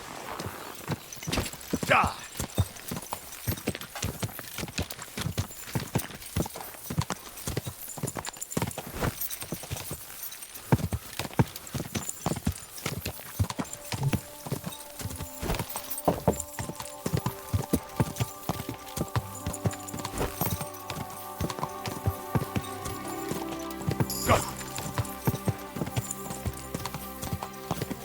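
In the medieval game Kingdom Come Deliverance 2, a horse's hooves clip-clop in a steady walking rhythm, close and continuous, with a brief shout and some game music and sounds partway through.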